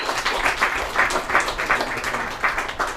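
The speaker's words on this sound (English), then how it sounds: "Round of applause for Brian once again" A crowd at a folk music event applauds after a performer's set, dense clapping with slight rhythmic swells, moderately loud and close, and no talk above it.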